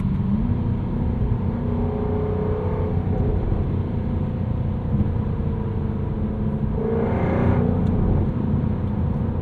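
A 2023 Jaguar F-Type R engine holds near its rev limiter, a loud, continuous rumbling roar heard from inside the car with a brief rise in intensity late on and no speech.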